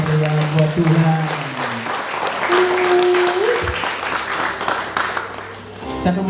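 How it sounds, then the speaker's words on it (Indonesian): Congregation applauding at a faculty of medicine worship service, a steady broad clatter of many hands held for several seconds, mixed with sustained tones and voices. "Tepuk tangan yang meriah buat Tuhan."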